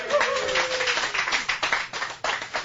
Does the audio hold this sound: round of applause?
yes